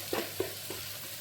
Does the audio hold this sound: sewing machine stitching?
no